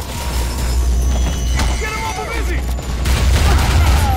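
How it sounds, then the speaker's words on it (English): Sustained covering fire from guns in the Fuse video game, with a steady volley of shots over a low rumble that swells louder toward the end. "Sergio, I need covering fire"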